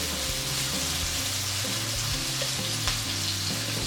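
Chopped onion with a little salt fries steadily in a pan, giving a continuous loud sizzle with a faint clink near the end and no talking.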